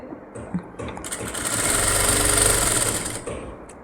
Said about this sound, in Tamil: இந்த லாஸ்ட் முடிக்கும்போது ஒரு கெட்டி தையல் போட்டு முடித்து ஊசியை உள்ளே குத்தி